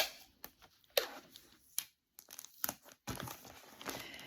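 Paper crinkling and rustling while wrapping a parcel to pack a resale order, with irregular close crackles and sharp crumpling bursts separated by brief quiet gaps.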